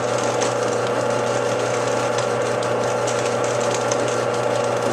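A Lazy Susan turns steadily under a pot of hot process soap, giving off a continuous, even mechanical whir and hum with no break in rhythm and no voices.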